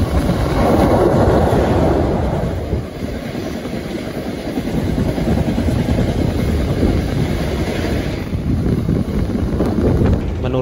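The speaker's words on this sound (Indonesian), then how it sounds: "suara yang ada di kereta ini ketika dipacu dengan kecepatan tinggi lumayan oke lah" The Argo Wilis passenger train speeds along at high speed, a loud, continuous rumble and roar of wheels on rail with wind rush and faint clickety-clack rhythm, heard from inside the carriage.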